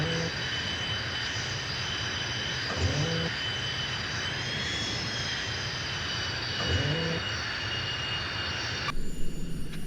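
A Tornado jet's engines spooling for takeoff in the FreeFalcon 6 flight simulator game, a loud steady roar with a high whine laid over it that continues throughout.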